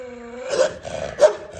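A dog growls and barks, a low rumbling growl followed by two sharp, close barks spaced about half a second apart, heard alone without talk.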